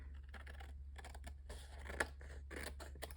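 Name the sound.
scissors trimming cardstock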